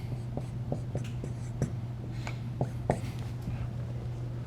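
Pen or marker strokes writing out a math function on a board or paper, a series of short, crisp taps and scratches at an irregular rhythm over a steady low hum, close and fairly quiet.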